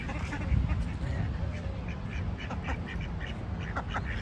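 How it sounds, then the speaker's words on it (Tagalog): Turkeys and geese gathered under a bridge in a park, with repeated nearby quacking and honking calls over a noisy outdoor background and a voice talking. "andyan yung sa silong ng bridge na, andyan yung mga ano, andyan yung mga pabo. Pabo, gansa."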